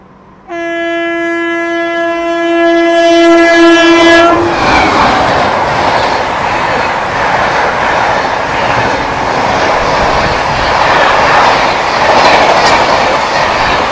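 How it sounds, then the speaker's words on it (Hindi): The Bangalore Rajdhani Express sounds a long, loud horn blast, then roars past close by with a steady rumble and clatter of wheels that continues to the end. "बेंगलोर राजधानी एक्सप्रेस"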